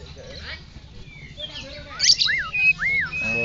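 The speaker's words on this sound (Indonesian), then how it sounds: "murai batu singo barong ini namanya." Close, clear song of a white-rumped shama (murai batu singo barong), with rising whistles and sharp chirps over a faint background hum, while a person talks quietly in the background.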